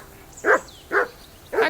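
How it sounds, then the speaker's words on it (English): Dog barking in the video game Kingdom Come: Deliverance II, three loud close barks at a steady, roughly half-second spacing, with no talking. "That dog of yours is barking like the devil."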